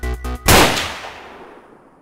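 A single sharp gunshot cracks in the horror game The Rainman, loud and close, and decays in a long fading tail after two short tonal pulses.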